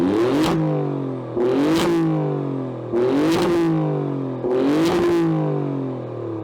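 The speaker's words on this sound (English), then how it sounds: "not listening to those quad pipes in race mode" A 2024 Alfa Romeo Stelvio Quadrifoglio in race mode blips its quad exhaust pipes four times, each loud nearby rev rising sharply and then falling back to a rumbling idle.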